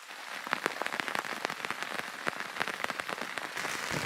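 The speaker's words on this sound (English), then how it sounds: "It's raining hard." Heavy rain in the Bermuda Triangle pounds nearby surfaces in dense, crackling bursts of drops, loud and continuous with no voices.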